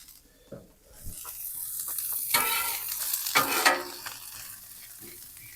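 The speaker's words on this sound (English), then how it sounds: "let's go ahead and start sauteing our onions" Onions sautéing in oil on a Blackstone griddle, a sizzle that swells and crackles in bursts as they are stirred and scraped, with no talking.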